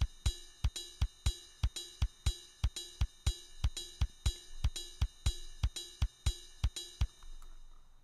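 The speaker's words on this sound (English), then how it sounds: "I'm going to program in the kick pattern" An electronic kick drum pattern repeats at a steady tempo, punchy low thumps with sharp clicks, loud and alone with no voices.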